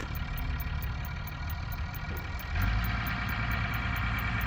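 New tractor engine running at a steady idle nearby, a low mechanical drone that grows slightly heavier and louder partway through, with no speech.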